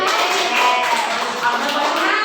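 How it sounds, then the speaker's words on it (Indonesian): A geography micro-teaching class applauds: dense, steady clapping from many hands fills the room at fairly high volume, with some voices mixed in underneath. "Ya, tepuk tangan."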